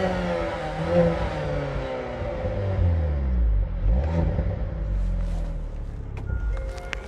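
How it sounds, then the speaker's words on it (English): A Hyundai Veloster N hot hatch in N mode revs its stock exhaust from close by, engine tones climbing and falling over several throttle blips with a deep rumble, and a few crackles at the end. "we get these huge exhaust vents right here, which sound fabulous"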